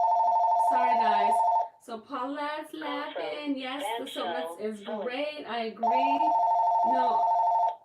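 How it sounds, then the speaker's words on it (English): A telephone rings in loud, steady electronic bursts at the start and again near the end, with someone talking in the gap between the rings. "I can't speak when the phone's ringing at the same time."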